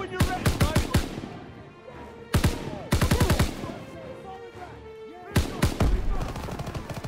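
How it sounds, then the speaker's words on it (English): Rapid automatic gunfire from a WW2 video game campaign, three loud close bursts of quick repeated shots separated by brief pauses, with talk in between. "I'm literally shooting him in the head."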